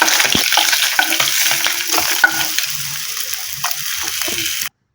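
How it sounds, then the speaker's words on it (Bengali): Fish fries in hot oil in a pan, giving a steady, close crackling sizzle with scraping stirs and turning sounds throughout, cutting off abruptly just before the end. "উল্টে পাল্টে লাল লাল করে ভেজে নেব।"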